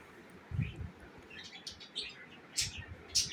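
A pet bird chirps in short, bright bursts, a few scattered calls close by over a quiet room with faint low thumps, no talk.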